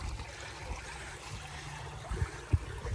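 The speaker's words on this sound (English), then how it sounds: "Came down here to this nice little creek." A small creek trickles steadily near a big metal pipe, a soft, continuous close wash of flowing water with a few low bumps toward the end.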